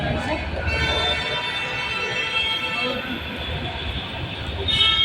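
Train ride with steady rumbling rolling noise throughout and a brief high horn-like tone near the end, with no clear talk over it.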